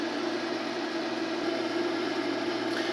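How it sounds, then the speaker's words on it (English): A microwave oven runs with a grilled cheese sandwich inside, giving a steady, even hum and whir that holds at one level throughout, close by with no talk. "put it in there, and then microwave it for about a minute."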